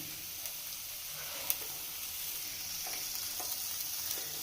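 Onion, green chili and capsicum sauté in hot oil in a pan for egg fried rice, giving a steady, close hiss of frying with faint clicks of stirring and no voices.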